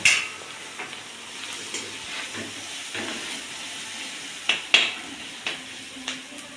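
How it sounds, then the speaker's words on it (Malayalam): Semolina (rava) being stirred as it dry-roasts in a pan for mixture upma, a soft continuous scraping and faint sizzle with a few sharper spoon taps against the pan, fairly close and quiet, no talking. "നമ്മൾ ഇളക്കിക്കൊണ്ടിരിക്കുക"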